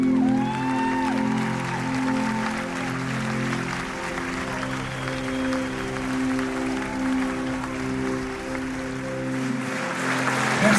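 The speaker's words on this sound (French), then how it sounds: "Dernier silence. Applaudissements." Audience applauding after a West Side Story performance, a continuous rush of clapping over a lingering sustained musical tone, moderately loud and steady for about ten seconds.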